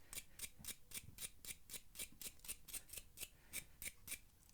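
A wire brush scrubs a dirty, fairly new bolt from a KTM Duke exhaust, about fifteen quick, close, rhythmic scratching strokes in a steady back-and-forth pattern, with no voices.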